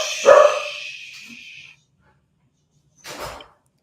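A pet dog gives a loud, close bark that trails off, then a second shorter bark after a pause of about two seconds, with no talking.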